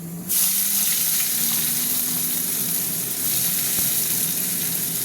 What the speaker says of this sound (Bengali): এবার দিয়ে দিচ্ছি পেঁয়াজটা।